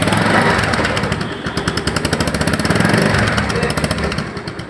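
A 2023 Bajaj Pulsar motorcycle engine running close by: a loud, rapid, rhythmic putter with dense even firing pulses, fading slightly toward the end.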